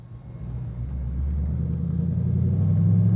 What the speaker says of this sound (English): Listen to that exhaust. I love it.